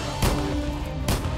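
Pistol shots in a zombie survival video game, two sharp, loud bangs spaced about a second apart over a steady background rumble.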